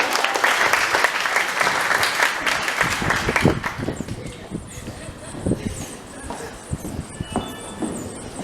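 Dense audience clapping at the Tagore Memorial Secondary School graduation ceremony fills the first few seconds, then thins out as a speaker's voice takes over through a public address system.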